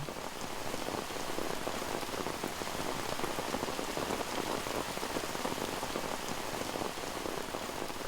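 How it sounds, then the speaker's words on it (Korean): Steady rain falling through Sangnim, an old-growth forest of deciduous and broadleaf trees, a dense even patter of drops on leaves and ground that holds constant throughout with no voices. "천년숲에 비가 내린다."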